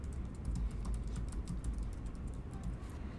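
Continuous rapid typing on a computer keyboard, a dense steady patter of key clicks over a low background rumble, close and moderate in level with no talking.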